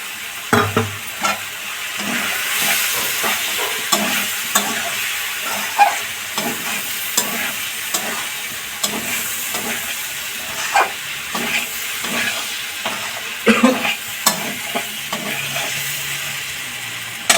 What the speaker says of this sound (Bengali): এবার ডালগুলো দিয়ে দেবো।